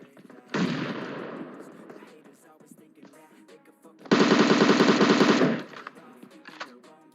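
Two loud bursts of rapid automatic fire from an M762 rifle in PUBG Mobile, a shorter volley followed by a longer, denser one, close and dominant with game ambience between.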